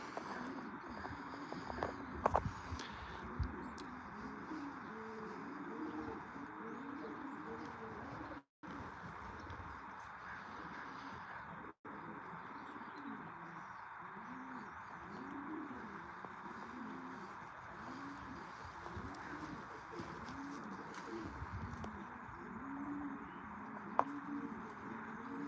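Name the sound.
pigeons cooing in a loft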